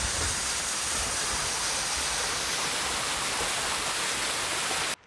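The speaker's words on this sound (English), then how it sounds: "Above this little cascade." A small cascade on a canyon creek rushes in a steady, dense wash of falling water, close and constant before cutting off abruptly at the end.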